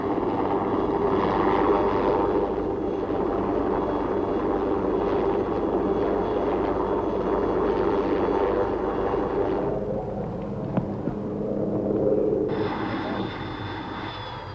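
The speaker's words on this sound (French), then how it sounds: "Alors Escoffier gagne le refuge du Hornli en hélico." A helicopter flies toward the Hörnli hut below the Matterhorn, its engine a loud, sustained drone that dips briefly near the end before a high whine returns, with no speech.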